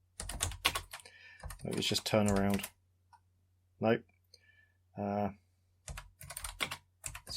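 Rapid keystrokes on a computer keyboard, typing commands into a Magnetic Scrolls text adventure game, arriving in clusters at the start and end, close-miked and soft, with someone speaking in the gaps.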